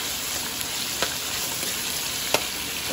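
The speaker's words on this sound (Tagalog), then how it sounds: "At igisa lang po natin saglit hanggang po sa mamula-mula siya." Bitter gourd and shrimp sautéing in a pan, a steady continuous sizzle with a few soft clicks of stirring.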